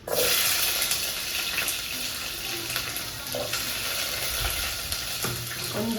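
Onions frying in hot oil in a home kitchen, a steady dense sizzle running throughout with small crackles and a few faint clinks, close and loud with no talking.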